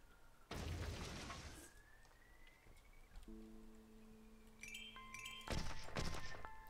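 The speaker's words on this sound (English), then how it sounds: "That's going to explode." Two loud, booming explosions go off in the Zombotron video game, separated by a few seconds of quieter game tones and beeps.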